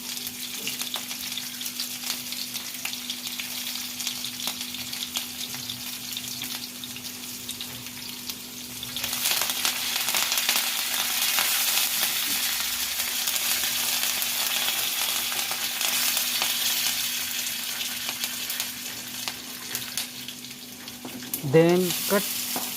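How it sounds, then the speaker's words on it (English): Green chilies, garlic and curry leaves fry in oil in a cauldron, starting as a quieter sizzle and swelling into a loud, steady crackle partway through, with a scrape near the end. "green chili, garlic, and curry leaves are put in oil. All ingredients are fried well."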